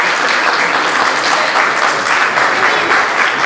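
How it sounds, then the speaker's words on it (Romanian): A crowd at a Romanian folk ensemble performance in Florești gives the guests of honour loud, sustained applause, a dense close wash of clapping with no gaps. "vă rog să le aplaudați așa cât de tare puteți"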